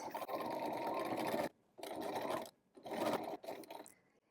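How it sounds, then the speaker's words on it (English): A sewing machine stitches fabric for a scrunchie in three steady whirring runs separated by short pauses, close and fairly loud, with no talking. "So start with a little back stitch and sew along this length."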